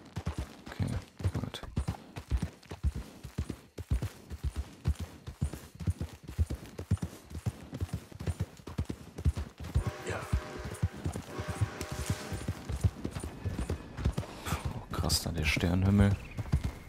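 Horse hooves clop in a quick, steady galloping rhythm in Red Dead Redemption 2, with a voice talking over them and other game sounds joining toward the end.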